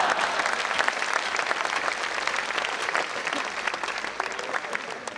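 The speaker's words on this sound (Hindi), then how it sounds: "और अब आपकी तालियां चाहेंगी" A dense, sustained audience applause at a Hindi comedy poetry gathering, many hands clapping at once, steady and loud throughout, with a crowd murmur beneath.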